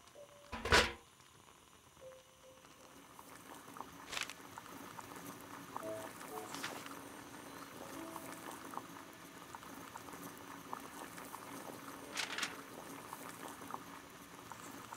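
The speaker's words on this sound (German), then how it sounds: "Bringen wir im Kessel etwas Wasser zum Kochen." Water boils steadily in a kettle in the Sherlock Holmes game The Devil's Daughter, a soft continuous bubbling and hissing with faint pops, preceded by a brief sharp knock near the start.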